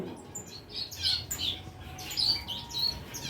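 Bengalese finches in a breeding farm chirping, with several bright, short tweets and calls overlapping in quick bursts against a low background hum.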